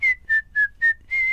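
A clear, steady whistled melody of five bright notes, the first four short and evenly spaced and the last one held longer, performed alone at close range with no talking.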